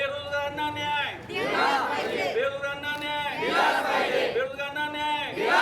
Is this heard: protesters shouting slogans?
yes